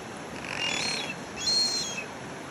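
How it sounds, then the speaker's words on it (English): A pair of whio, New Zealand blue ducks, calling beside a stream: two faint, drawn-out whistles, the second a little stronger, over a steady background hiss. "there is a pair of whio in the stream"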